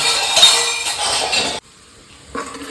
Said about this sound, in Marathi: तेल गरम ठेवू त्याला कांदा कापला आहे चला आता याच्यामध्ये टाकू कांदा